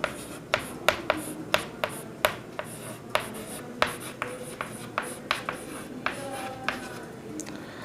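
Steady strokes of writing on a board in a maths classroom tap and scratch in a quick, uneven rhythm. Each mark lands crisp and close, with faint room noise between.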